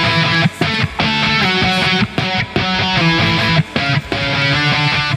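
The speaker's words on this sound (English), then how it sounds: "let's jump into what the lead guitar is going to do in that section" Lead electric guitar playing octave lines from a song, a bright, driving run of repeated notes with short breaks, loud and close over a full band backing.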